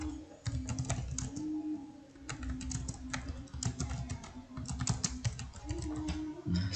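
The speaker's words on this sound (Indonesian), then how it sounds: "Misalnya saya ketik aja langsung di sini ya." A computer keyboard clatters steadily as a sentence is typed into an online document. Fast, close keystrokes come in runs with short pauses between them over a low hum, with no voice.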